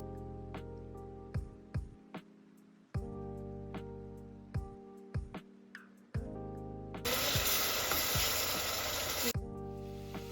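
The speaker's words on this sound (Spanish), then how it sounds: "agregaremos el ajo molido" Ground garlic hits hot oil in a frying pan while preparing carapulcra, a Peruvian stew, giving a steady close sizzle with repeated clicks and clinks of a utensil, then a louder surge of intense crackling frying.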